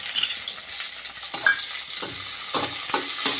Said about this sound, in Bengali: অন্য একটা কড়ায় আমি এই পাতাগুলো ভেজে নেব।